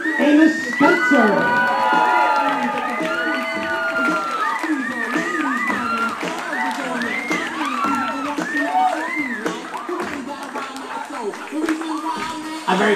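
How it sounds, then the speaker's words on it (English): Wedding reception guests cheer and clap as the bridesmaids are introduced, an enthusiastic roar of whoops and shouts over steady applause, with an announcer's voice running over music throughout. "I'm going to give a round of applause for our bridesmaids"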